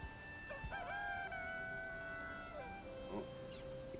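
A rooster-like chicken from the game Valheim calls in a few rising, warbling crows and clucks, faint and distant over a steady rain-like hiss of background noise.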